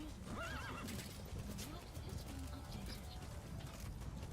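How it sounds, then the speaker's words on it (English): Horse neighing in Metal Gear Solid V: The Phantom Pain: a single whinny rises and falls near the start. Hoof clip-clops continue over a steady outdoor bed with faint bird calls, and the whole clip is quiet. "I forget my horse freaks out when it tries to go through smoke."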